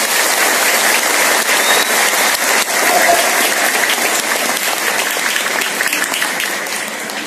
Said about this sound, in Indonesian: Tepuk tangan buat orang Sumenep